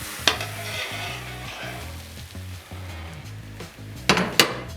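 Crêpe batter sizzles in a hot, oiled pan with a soft, steady fizz, broken by a few sharp clinks of utensils against the pan near the start and end.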